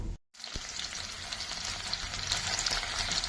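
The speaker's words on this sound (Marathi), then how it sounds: "तर आता आपण कांदा तळून घेऊ" Onion frying in oil in a kadhai, a steady moderately loud sizzle that holds without a break after a brief silent gap at the start, with no talk over it.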